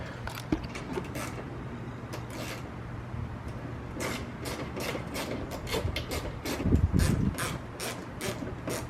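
A ratchet works loose 8mm screws on a BMW E90, with rapid clicking pawl bursts in quick repeated runs, close and clear, louder toward the end, with no speech.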